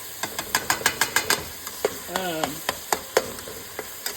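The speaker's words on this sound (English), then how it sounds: "Just kind of chop that meat up so it get into small little chunks" Ground meat browning in a pan while a spatula chops it into small chunks: a quick run of sharp rhythmic taps and scrapes over a soft sizzle, with one brief voice in the middle.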